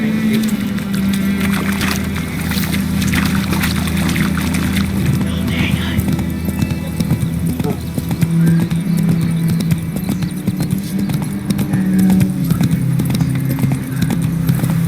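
Roach, a horse in The Witcher 3 video game, clip-clops along in a steady rhythm of hoof beats under a low rumbling game soundtrack, with a voice speaking at points.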